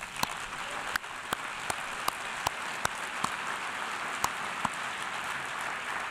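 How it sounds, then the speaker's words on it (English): Audience applause at a UN General Assembly session on the Global Compact, a soft, steady patter of many hands heard from a distance, punctuated by a few sharper individual claps closer by. "so an applause for Georg."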